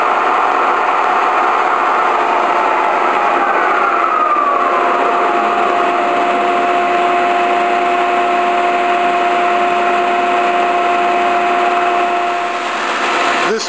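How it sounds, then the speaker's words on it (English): Brake engaging on the rotating table of a 1960 Webster & Bennett Model DH vertical turret lathe, a steady loud mechanical whine and hum that slowly winds down in pitch in a workshop, no talking. "As I disengage the table, you're going to hear the brake engage, which is properly functioning."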